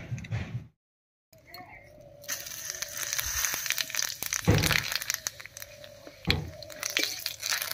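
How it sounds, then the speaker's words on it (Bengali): Whole cumin seeds and a bay leaf hit hot oil left from frying koi fish, giving irregular sharp crackles and pops over a sizzling hiss after a brief silent gap, close and fairly loud. "মাছ ভাজার এই তেলের মধ্যেই ফোড়ন দেব,"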